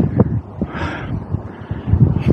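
Strong, gusty wind buffets the microphone beside a moored narrowboat at Bugsworth Basin canal in stormy weather. Low rumbling blasts rise and fall in bursts, loud and close, with no other clear sound.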